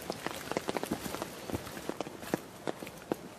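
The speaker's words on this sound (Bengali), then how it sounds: "ঘন কুয়াশার বৃষ্টির মধ্যে দিয়ে আমাদের পথ চলেছে।" Footsteps on a steep, slippery trail turned to mud by rain in dense fog, hiking toward the Annapurna region of the Himalaya; uneven soft treads and scuffs repeat close by over a steady patter of rain.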